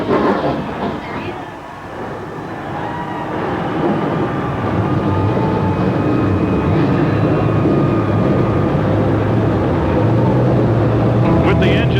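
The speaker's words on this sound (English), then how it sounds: "With the engines fired up, we're getting ready to fire up the action here for the Hawkeye Downs 300." Stock car engines roar at Hawkeye Downs Speedway in Cedar Rapids, Iowa, before an ASA AC-Delco Challenge Series 300 race, a loud, sustained droning rumble filling the whole stretch beneath a commentator's voice.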